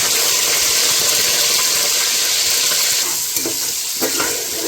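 Sliced onions, dried red chillies and curry leaves crackle in hot oil for a Bhimavaram-style prawn pulao: a loud, close, continuous sizzle that eases slightly toward the end.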